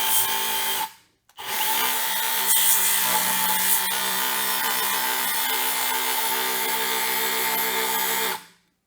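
A DeWalt DCM200 20V cordless bandfile grinder runs at top speed with a steady, loud, high-pitched whine and grinding hiss. It cuts out briefly near the start, then holds an even drone until it stops near the end.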